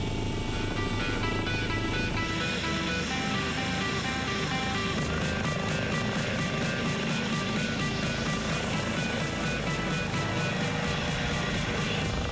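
A MedStar medical helicopter roars loudly and continuously nearby, its rotor thumping in a steady rapid rhythm with engine whine throughout.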